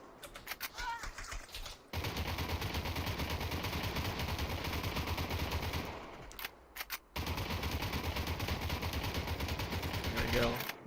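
Automatic gunfire in the VR shooter Population: One rattles in long sustained bursts, broken by brief pauses, loud and dense across most of the stretch.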